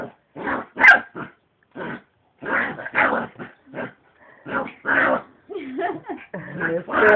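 A miniature pinscher barks in short, sharp bursts with yips and a whimper between them, close and loud in a quiet room.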